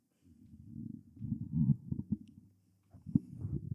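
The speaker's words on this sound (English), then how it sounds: "You keep burping." A person burps repeatedly up close, with a run of low, gurgling belches in quick succession, a short pause, then one more sharp burp.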